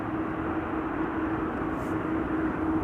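A Ryanair jet arrives at Amsterdam Schiphol from Dublin, heard as a steady, broad engine roar that holds an even level throughout.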